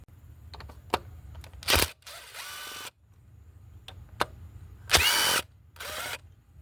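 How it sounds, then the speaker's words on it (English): A T30 Torx bit backs out the ignition coil pack screws on a 2014 Chevy Cruze 1.4. Several short, sharp whirring and ratcheting bursts are separated by small mechanical clicks and quiet pauses, close up with no talk. "So I'm going to use this T30 to go ahead and get those two screws out."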